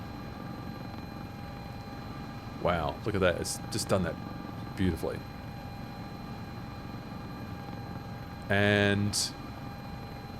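An S-76 helicopter in the flight simulator MSFS 2024 gives off a steady, even rotor and turbine hum throughout, while someone talks over it in short bursts.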